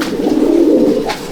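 A male Madras pigeon, white-headed type, coos once at close range, giving a single drawn-out throaty call in a loft with no talk.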